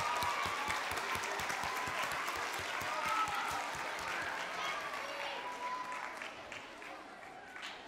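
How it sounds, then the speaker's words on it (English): Audience applause at an art event with artist Shantell Martin, a broad wash of many hands clapping that stays steady, then slowly thins and fades toward the end. "Give yourselves and Chantel another huge round of applause."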